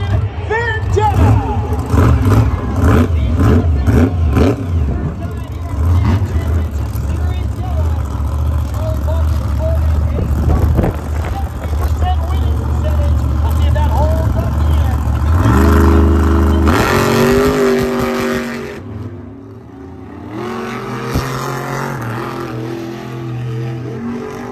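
Monster trucks at Monster Jam El Paso 2022, including Vendetta, rev and race in an arena. Loud, throaty engine roars rise and fall with sharp revving surges, and an announcer's voice carries over the din.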